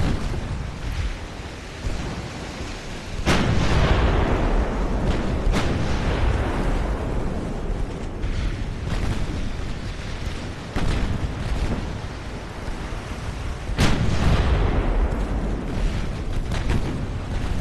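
Naval gunfire in the warship strategy game Ultimate Admiral Dreadnoughts: heavy booming salvos that burst out at intervals, each followed by a long rumbling decay, loud and close with no talking.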